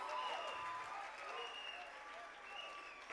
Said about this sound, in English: Let's continue clapping those hands for Jesus.